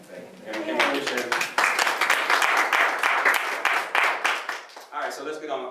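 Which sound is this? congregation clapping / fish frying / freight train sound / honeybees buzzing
congregation clapping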